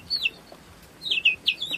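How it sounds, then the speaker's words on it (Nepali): A Dumse chicken in rural Nepal gives short, high clucks: a faint single call, then a quick cluster of two or three more near the end, in a quiet outdoor setting. "कुन खालको कुखुरा हो यो चाहिँ दुम्से कुखुरा"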